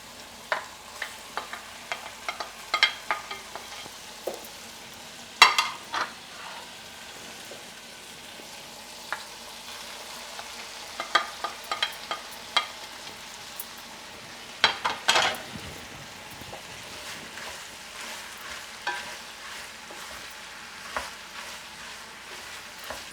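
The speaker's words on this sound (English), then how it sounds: "My meat is frying up with the masala nicely, giving it a good mix" Meat frying with masala in a pan for an East Indian dish gives a steady low sizzle, broken by scattered sharp scrapes and clicks as a utensil stirs it, close and without speech.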